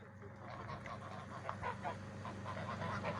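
Geese honking repeatedly in a steady, noisy chorus, a flock calling close by with overlapping cackles.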